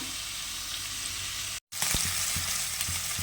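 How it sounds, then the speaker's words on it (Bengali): Shrimp fry lightly in oil in a pan, giving a bright, steady hiss up close. A momentary cut breaks the sound, then the sizzle returns with a few soft spatula taps. "চিংড়ি মাছ হালকা ভাজলেই হবে"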